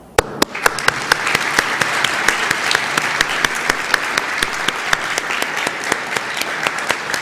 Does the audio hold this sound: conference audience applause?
yes